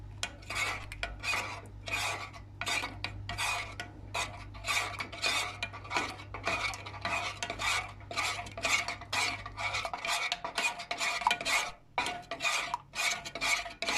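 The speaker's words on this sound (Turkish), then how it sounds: "bunu da sürekli karıştırarak eritiyoruz" A spoon stirs dark and milk chocolate melting in a pot, a quick regular run of scraping strokes against the metal, close and continuous for the whole stretch, with a low hum dropping away partway.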